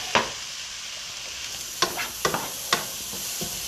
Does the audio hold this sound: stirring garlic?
yes